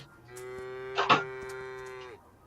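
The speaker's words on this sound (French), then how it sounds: "La vache." A cow gives one long, steady moo lasting nearly two seconds, close by and clear, with a brief louder scuffle or snort in the middle, and no talk.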